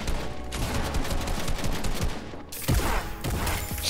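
A shotgun fires in a shooting video game amid dense bursts of gunfire and loud cracking shots over roughly four seconds, close and punchy with no talking.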